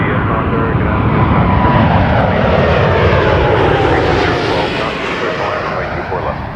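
A Qatar airliner on ILS approach at Toronto Pearson passes as a loud, close jet roar that swells and slowly shifts in pitch before easing off, with a voice faintly present underneath.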